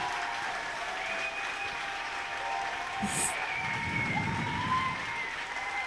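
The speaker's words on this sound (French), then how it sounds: "On peut applaudir très fort les deux équipes et la troisième équipe des arbitres" Steady crowd applause for the teams and referees after a roller derby match fills the space, with sustained tonal sounds and a brief bright squeak riding over the clapping.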